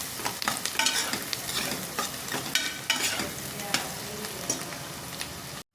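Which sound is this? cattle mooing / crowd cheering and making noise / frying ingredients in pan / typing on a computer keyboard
frying ingredients in pan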